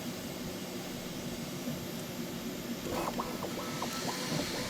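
Steady mechanical whir of a 3D printer laying down a layer of 22 Network PETG filament, with faint stepper-motor chirps and rhythmic ticking patterns emerging in the second half, continuous and close.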